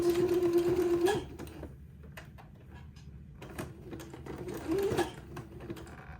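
A home sewing machine stitches fabric in two short runs, first about a second long and then a second burst a few seconds later, with a close, tonal motor hum and quiet handling in between while the fabric catches.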